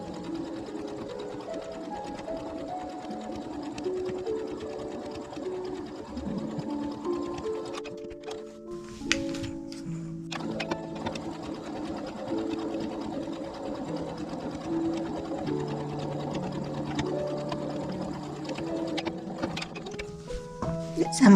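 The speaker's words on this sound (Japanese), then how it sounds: "ここも1センチの縫い代で縫っていきます" Sewing machine running in steady bursts as it stitches a quilted table runner with a 1 cm seam allowance, close and continuous with a brief pause midway, no talking.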